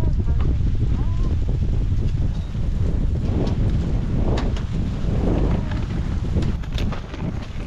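Wind rushes steadily across the microphone on the Inwangsan mountain trail in Seoul, a loud continuous buffeting roar with gusts swelling and easing throughout.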